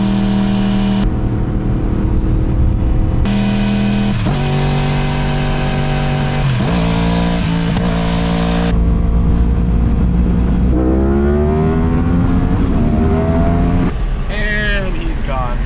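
A Yamaha R1 motorcycle racing a Tesla on the road, loud engine notes rising and falling through repeated accelerations and gear changes, up close over steady wind noise, with people talking over it.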